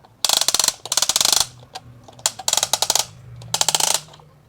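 A 1:20 scale tracked remote-control toy crane's operating platform turned by hand, giving loud, close plastic ratcheting clicks in rapid bursts separated by short pauses, with no talking.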